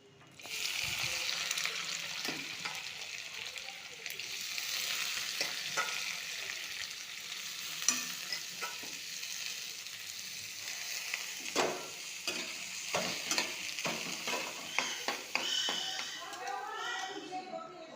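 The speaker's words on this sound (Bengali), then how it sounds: "এবার তেলের মধ্যে সবজিগুলি দিয়ে দেব" Vegetables hitting hot oil for chow mein, a continuous moderate sizzle with scattered stirring scrapes and taps growing busier toward the end, and faint voices in the background.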